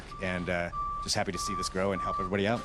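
Truck reversing beeps repeat steadily in the background of an active outdoor site at an Urban Gleaners food event, a thin steady tone sounding under close conversational speech.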